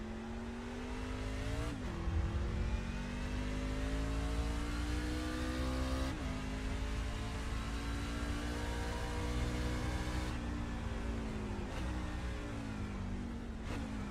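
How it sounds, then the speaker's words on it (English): Racing truck engine in a video game on the Kansas road course, revving hard and steadily with several sharp downshifts that drop and climb the pitch, loud and alone. "That late downshift again to get the car rotated."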